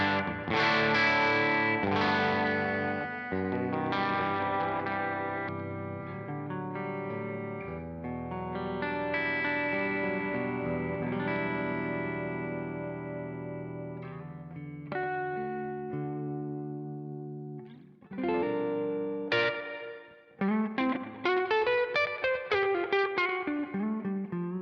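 Eastman electric guitar with Seymour Duncan pickups through a clean channel, a rich sequence of chords and melodic lines ringing with sustained harmonics, close and fairly loud, ending in brighter, quicker picked notes.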